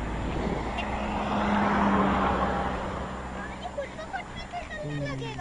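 A car rolls backward down an uphill village road in neutral, a low steady rumble that swells and then eases while people talk nearby.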